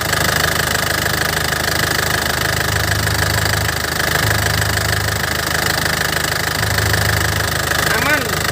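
Warm Isuzu Panther Grand Touring 2010 diesel engine idling steadily, a continuous close rumble with a rhythmic knocking pulse, running alone.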